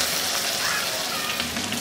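Pieces of rui fish frying in hot oil, a dense continuous sizzle that is loud and close.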